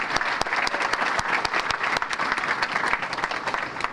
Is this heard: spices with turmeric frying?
no